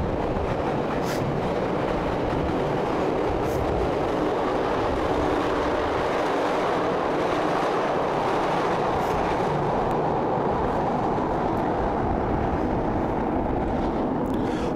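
A train rolls past near Chicago's United Center on the city's West Side, a loud, close, continuous rumble with rhythmic wheel clatter and faint rail squeals that persists for about fifteen seconds.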